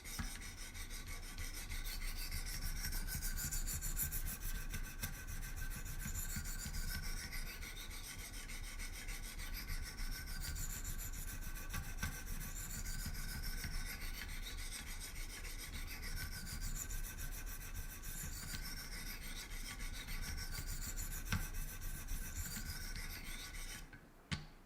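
A Great Eastern Cutlery traditional knife is worked on a Wicked Edge sharpener with 600 grit stones, giving steady rasping strokes in a regular back-and-forth rhythm, close and quiet, with no talking.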